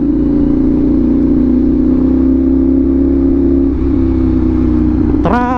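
Yamaha R6-style motorcycle engine droning steadily and loud throughout, ending in a sharp rising rev in the last second.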